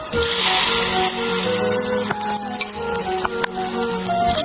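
Balls of date dough frying in hot oil fill the air with a loud, dense bubbling sizzle, close by, punctuated by a few light metallic clinks.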